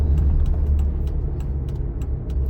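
A car on a city street during a driving lesson, its engine a steady low rumble with road noise at a constant pace and faint ticking clicks repeating in the background.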